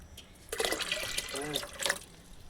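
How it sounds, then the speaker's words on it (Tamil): Water pours into a guppy fish tank as a close splashing, bubbling gush that starts abruptly and runs for a couple of seconds before easing off. "இன்னும் கொஞ்சம் தண்ணி கூட ஊற்றிக்கலாம்."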